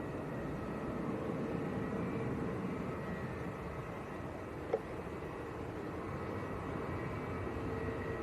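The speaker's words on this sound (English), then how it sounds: "Next to land, it looks like Finnair. It is indeed an A319 in the One World livery, coming in from Helsinki." Finnair Airbus A319 in oneworld livery landing at Manchester Airport, arriving from Helsinki, heard as a steady, fairly distant broadband jet roar that holds level throughout, with one brief click midway.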